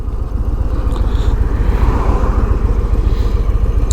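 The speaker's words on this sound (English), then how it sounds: "I'm not pushing this bike terribly hard because it's a new bike, the engine isn't broken in" A new, not yet broken-in 2022 Harley-Davidson Low Rider S motorcycle engine under way, a loud, steady, low throbbing rumble with wind noise that never lets up.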